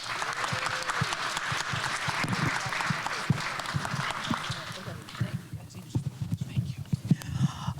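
An audience at the Baltimore Together Summit claps steadily in a dense round of applause, then the clapping thins to scattered claps while voices murmur and talk over it.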